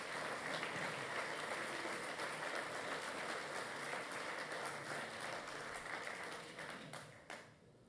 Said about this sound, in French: Et donc je voudrais que nous puissions les applaudir.